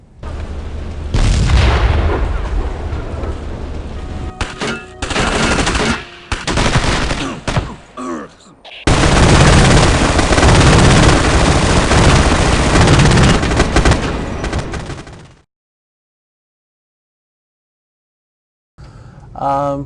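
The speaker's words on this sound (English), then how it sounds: "Sound Deluxe set up a firing range and did some live weapon fires out there" Live weapons fired at an outdoor firing range for the Ghost Recon video game: dense, loud bursts of automatic gunfire and booming shots in rapid volleys, with short pauses between strings, then abrupt silence near the end.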